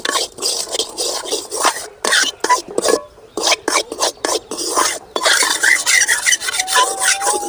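Rice flour is dry-roasted in a pan without ghee, giving a continuous close scraping and stirring rasp in quick, uneven strokes with short pauses, loud and alone.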